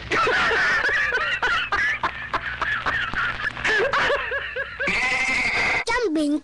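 A goat bleats in repeated wavering cries, loud and close, mixed with voices chanting and talking throughout.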